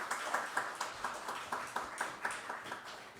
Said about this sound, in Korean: 예, 박수해 주십시오